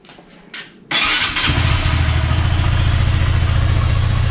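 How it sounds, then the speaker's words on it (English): A Honda Grom motorcycle with stock exhaust cranks and fires up from cold, settling into a steady, buzzy idle that stays close and loud. "we'll do a cold startup on the stock exhaust before we install the aftermarket"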